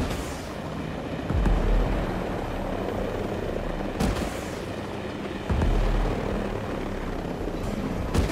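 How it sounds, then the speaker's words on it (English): Helicopter in the Ghost Recon Breakpoint video game, a steady rotor and engine drone held throughout with a few heavier low thumps, fairly loud and with no talk. "That little helicopter just doesn't have enough help."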